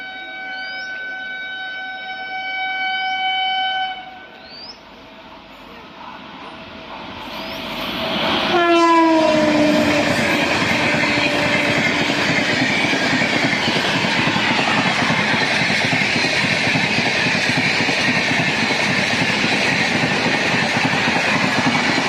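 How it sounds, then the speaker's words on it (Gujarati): A train horn sounds in a few short blasts, then a long loud honk as a train rumbles past, its steady clatter filling the rest. "હોર્ન તમને સંભળાતું હશે."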